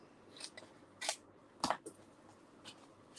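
Scissors snip through paper for scrapbooking in several quiet, separate cuts with short pauses between them, close up and with no talking.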